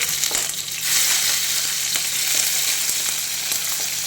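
Garlic, green chillies and onion fry in hot oil with a continuous loud sizzle, broken by occasional stirring clicks and scrapes in a pan close to the microphone.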